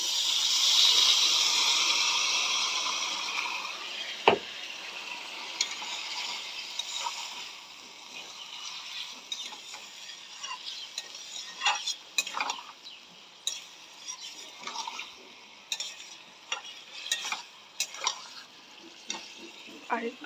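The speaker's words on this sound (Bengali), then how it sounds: "এখন মশলা জলটা দিয়ে দিই।" Spiced water hits a hot pan of vegetables for a pointed gourd and paneer dish, first a loud hiss and sizzle that fades into quieter simmering, with scattered clinks and scrapes of a stirring spoon against the pan.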